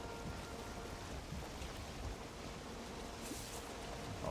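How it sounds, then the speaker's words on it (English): Steady, even hiss of heavy rain falling in the Valheim video game, a constant close wash of drops with no talking over it. "It'd be nice if that rain stopped"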